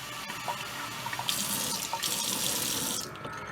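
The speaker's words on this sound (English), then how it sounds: "So put some cold water." Cold water running from a kitchen faucet into a sink while cooking, a steady loud hiss and splash that swells after a moment and then cuts off near the end.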